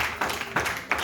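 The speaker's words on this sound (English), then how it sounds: "You clap your hands in Jesus' name." A church congregation claps hands during a sermon, three loud, fairly close bursts of many overlapping claps in quick succession.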